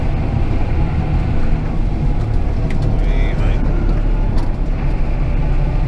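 A new John Deere tractor drives through town, its engine and road noise forming a loud, continuous rumble that stays steady throughout.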